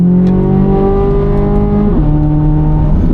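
670 HP 2024 Chevrolet Corvette Z06 engine pulling hard from inside the car, a loud rising tone that drops sharply at a single gear shift before climbing again, with no voices.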